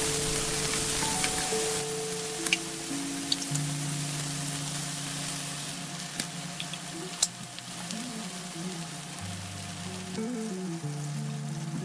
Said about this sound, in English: Now we're here at the frying stage